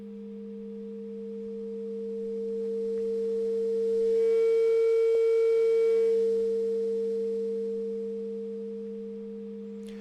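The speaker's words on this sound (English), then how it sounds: "I've got the sample of a guitar feedback." A sampled guitar feedback note played in a software sampler: a steady, pure sustained tone that swells slowly to a peak around the middle and then eases back, holding for about ten seconds with no other sound.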